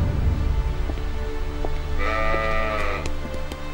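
Sheep bleat loudly and close by, with several drawn-out, wavering cries overlapping toward the end, over a low rumbling background and a few sharp clicks.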